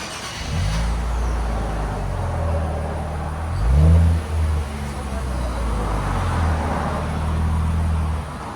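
A 2024 Nissan Z with a 3.0L twin-turbo V6 and AWE Track cat-back exhaust holds a deep, steady idle, then swells into a brief rev around the middle before settling back to a rumbling idle.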